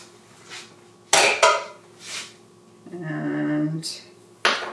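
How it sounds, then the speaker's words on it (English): A kneading paddle pried out of a bread machine pan, giving a few sharp metallic clanks and knocks spread across a few seconds, with a voice speaking between them. "I need to get that annoying little paddle out of there"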